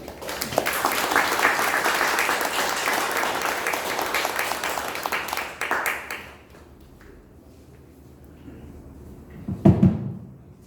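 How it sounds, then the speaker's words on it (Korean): A lecture audience at an invited talk in Sejong gives sustained applause for about six seconds, which then stops abruptly into room quiet, followed by a single dull thump near the end. "박수 한 번만 더 부탁드리고요"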